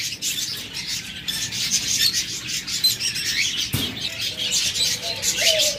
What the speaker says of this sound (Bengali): দেখুন চমৎকার এক জোড়া ককাটেল রয়েছে